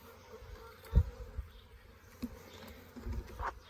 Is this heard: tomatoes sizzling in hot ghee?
no